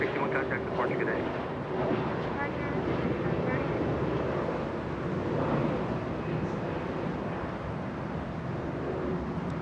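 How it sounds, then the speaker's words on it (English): A FedEx MD-11 cargo jet at LAX, flying to Memphis, makes a continuous low jet rumble at moderate distance, heard beneath someone talking. "FedEx 1379 flying to Memphis, Tennessee. It's an MD-11."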